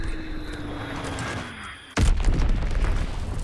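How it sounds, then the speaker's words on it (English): A bomb detonates in a World War II shooter game, Hell Let Loose, on a winter Carentan map, a sudden heavy boom cutting in over a low droning background and leaving a loud rumbling tail. "Enemy bomb incoming."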